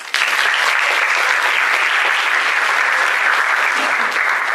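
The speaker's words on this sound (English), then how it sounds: "Let's give them a round of applause." A pageant audience at a Miss Northwestern competition giving a dense, sustained round of applause, loud and steady from start to finish with a sharp onset.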